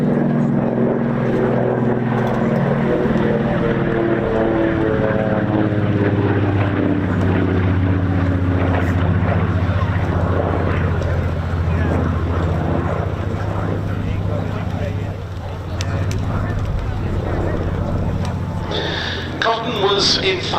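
Propeller engines of a Lockheed 12A Electra Junior drone steadily and loudly at an airshow, with a deep, even hum running throughout under continuous narration.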